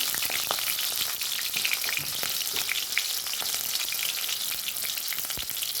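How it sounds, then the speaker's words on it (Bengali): Potato pieces fry in white oil with a pinch of salt for khichuri, a steady, dense sizzle that stays close and even throughout, with small crackles and pops scattered across it and no voices. "তো এবার আমি দিয়ে দিলাম আলুগুলোকে আমি লাল লাল করে ভেজে নেব, একটু লবণ দিয়ে।"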